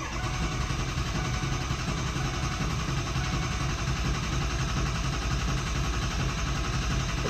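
A Ford 6.0 Powerstroke diesel engine with a low oil pressure fault runs steadily, giving a loud, continuous rumble that stays constant throughout with no talk over it.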